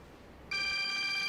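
A telephone suddenly starts ringing with an incoming call, a steady electronic tone that begins partway through and stays loud and close.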